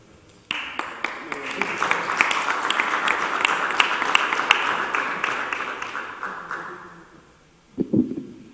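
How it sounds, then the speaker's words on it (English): A meeting audience applauds the mayor of Maplewood Township, steady clapping from about half a second for roughly seven seconds, then fading, with a brief burst of a voice near the end. "Thank you for the applause before I speak."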